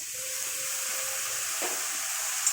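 Potato and eggplant pieces sizzle steadily in hilsa fish oil as they are stir-fried, a continuous close hiss and crackle of frying with a brief stir or clink near the end.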